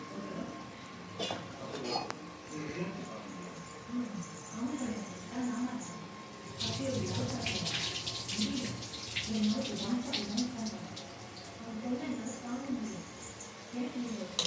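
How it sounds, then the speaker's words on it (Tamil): Water splashes and trickles as basmati rice is drained in a home kitchen while biryani is being made. The splashing is intermittent and close, with dishes knocking now and then and someone talking over it. "நல்லா தண்ணி இல்லாமல் வடிகட்டிட்டு போடணும்"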